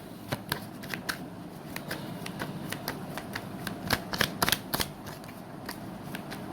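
Tarot cards are shuffled and drawn by hand, a run of quick, crisp riffling flicks and slaps, close and fairly soft, with no talking.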